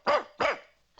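A cartoon bulldog in a bullring arena barks three times in quick succession, sharp and close, with no talk.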